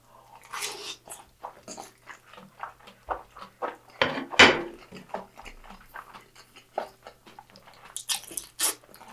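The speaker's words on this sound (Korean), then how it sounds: "만두를 먹으니까" Close, crisp ASMR bites and wet chewing of a Korean dumpling (mandu), a series of soft crunching bites with one sharper snap in the middle, heard alone without talking.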